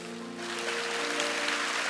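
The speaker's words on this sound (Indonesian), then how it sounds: "Haleluya, kasih tepuk tangan untuk Tuhan." Congregation clapping during a church worship service, a steady, moderately quiet round of applause with a sustained organ or keyboard chord underneath.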